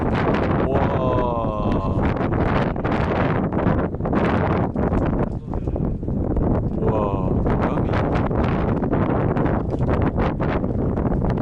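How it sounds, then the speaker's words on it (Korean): Strong, gusty wind buffets the microphone at a crucian carp fishing spot, a loud continuous roar with rustling and occasional faint clatter throughout. "시작된 미친 바람. 이건 뭐 사실 낚시가 불가능한 바람인데"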